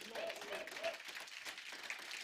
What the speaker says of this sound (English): can I please ask that we give this man a standing ovation? Can we do that? And a round of applause.